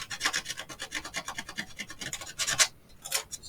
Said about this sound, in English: Just want to scrape all that extra glue off of there